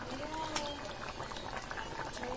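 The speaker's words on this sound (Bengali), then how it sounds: "এবার আমরা এটা 10 মিনিটের মতো ফুটিয়ে নেবো" A pot of fish curry with tamarind boils with a steady, low bubbling simmer and occasional soft pops, continuous and moderately faint, with no talk.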